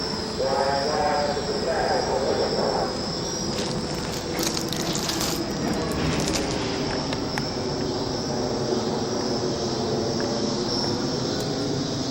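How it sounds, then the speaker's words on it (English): Rail cars in a big switching yard rumble and grind with metallic squeals and clanks, a steady loud rolling noise with brief higher screeches, while insects chirp in the background. "Yeah, it's a big rail switching yard. And so they were doing a little switching action."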